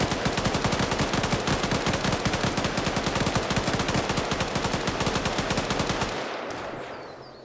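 Video game machine gun fire rattles in a fast, steady stream of loud, close shots for about six seconds, then breaks off and fades out.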